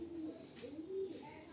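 Male Fulsira pigeons coo softly nearby in a short, low burbling call over quiet background noise.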